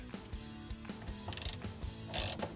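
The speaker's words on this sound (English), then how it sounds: "you have to remove the two screws on the sides first" Clicking ratchet driver backing out T40 Torx screws from the center console of a Polaris RZR 1000XP, a close, rapid series of mechanical clicks with brief pauses between turns, no talking.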